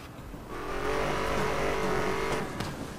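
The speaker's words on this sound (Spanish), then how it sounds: "ahora conduzco un Chevrolet Corvette" Chevrolet Corvette engine in the video game Need for Speed Most Wanted, a steady loud roar that swells after half a second, holds while the car drives and eases off near the end, with no talk.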